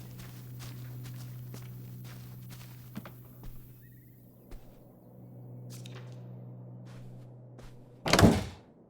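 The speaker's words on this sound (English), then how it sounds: "Ah, door, we meet again" Footsteps and a door opening in the video game Open Roads: a run of soft, evenly paced steps over a low hum, then a sudden loud creak and thud of the door near the end.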